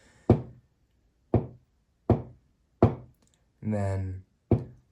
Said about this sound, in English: if you keep knocking, it'll register the knocks